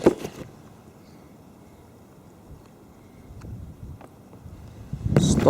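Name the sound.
wind blowing into the microphone on a walk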